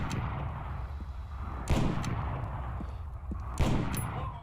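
Sniper rifle shots from an M320 LRR in Arma 3, fired at a target 2,000 meters downrange: a couple of distinct booming reports spaced about two seconds apart over a quiet rumbling background.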